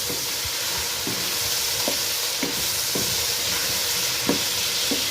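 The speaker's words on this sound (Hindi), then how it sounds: "चिकन का कलर चेंज होने तक मैं इसे भूनूंगी" Chicken pieces frying in a pan until golden for chatkhara masala chicken, a loud constant sizzle and hiss with occasional soft knocks and scrapes of stirring, no talk.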